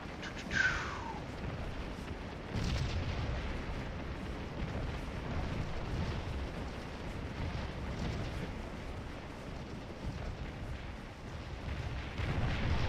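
Artillery guns fire in a Scourge of War battle, booming blasts rolling over a dense, continuous rumble of distant cannon and gunfire, with one sharp report standing out near the start and heavier thumps recurring throughout.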